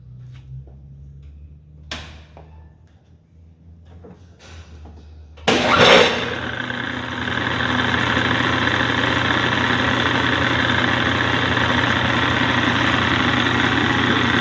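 A loud clunk from a 100 amp breaker and disconnect switch, then a 30HP TEMCo rotary phase converter with a 45 KVA 460v transformer spins up and settles into a steady, loud motor hum and whine with worn bearings.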